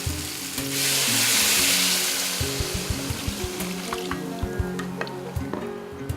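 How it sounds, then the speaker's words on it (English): Potatoes and broth go into a hot pot for dill pickle soup, setting off a steady frying sizzle with small clicks and drips, while soft background music hums underneath. "And then you want to add in your potatoes and your broth."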